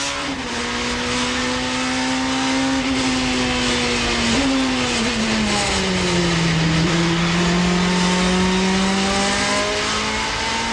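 Touring cars race at Silverstone, the pack led by a Honda Accord, their engines a loud, continuous high whine that climbs and dips with gear changes and corners, with several engines overlapping throughout.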